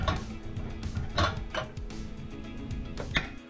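A pan lifted off the stove and set aside while cooking walleye wings and cheeks, a few close metallic clanks and scrapes over a steady background hiss.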